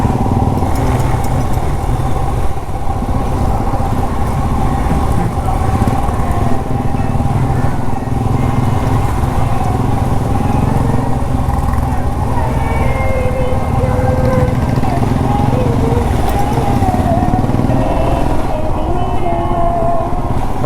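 A large group of around forty Royal Enfield Himalayan motorcycles riding across sandy terrain, a steady loud engine drone with layered exhaust rumble from many bikes, continuous throughout.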